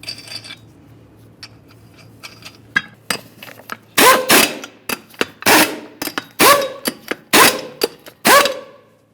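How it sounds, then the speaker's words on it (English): Lug nuts being run onto a wheel of a 2012-2018 Nissan Altima, heard as a rapid series of sharp metallic ratcheting bursts and clanks, loud and close, with quieter tool clicks leading in. "Start on all of your lug nuts, bottom them out"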